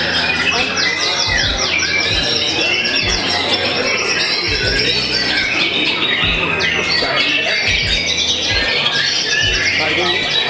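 A white-rumped shama (murai batu) sings long, loud, varied phrases of squawks, whistles and chirps, continuous and close, with low thumps and a voice talking underneath.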